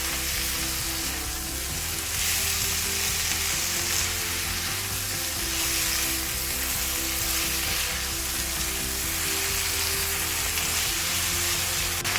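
Spices sizzling and sautéing in a pan for green hariyali chicken, a steady, close hiss of frying that holds evenly throughout with no talk.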